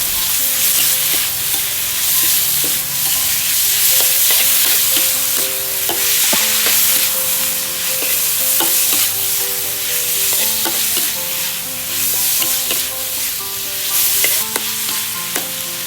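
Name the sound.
stir-frying pork with oyster sauce in a pan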